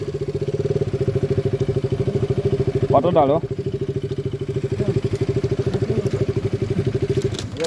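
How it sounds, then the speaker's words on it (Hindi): A motorcycle engine idles nearby at a roadside check gate during a mini marathon in Itanagar, its steady low pulsing thud continuing throughout, with a brief clatter partway and people talking over it. "साउंड सुनो साउंड, बाइक गिरेगा तो नहीं ना आपका"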